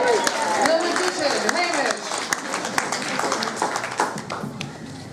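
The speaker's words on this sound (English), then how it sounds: "let's give him a clap" Wedding guests clap for a magician at a reception, a steady crackle of applause running through the clip while voices talk over it.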